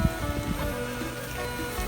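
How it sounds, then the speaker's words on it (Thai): Rain falls outdoors during a rainy day while catching freshwater shrimp, a steady dense patter and hiss that fills the whole clip with no speech over it. "วันนี้วันฝนตกด้วยครับฝนตกด้วย"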